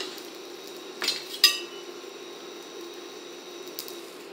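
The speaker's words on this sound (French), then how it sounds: "on défait l'emporte-pièce" A metal cookie cutter comes off buckwheat blinis in a pan, giving two quick metallic clinks close together and a faint tap a few seconds later over a soft, steady background hiss.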